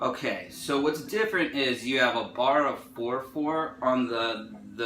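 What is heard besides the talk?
No everyday noise stands out behind the speech.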